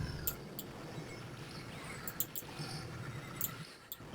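Faint horse whinnies rise and fall over a low, steady background hum, with sharp clicks scattered through, from the Amiga video game Walker.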